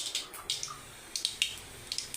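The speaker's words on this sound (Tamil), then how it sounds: "என்ன கடுகு வெடிச்சிருச்சு." Mustard seeds splutter in hot oil while drumstick leaf poriyal is cooked, giving sparse, sharp, faint crackling pops in short irregular bursts, with no talking.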